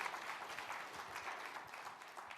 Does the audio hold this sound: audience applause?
yes